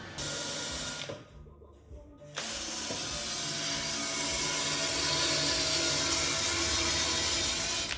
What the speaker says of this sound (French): t'es en train de poncer un peu les bordures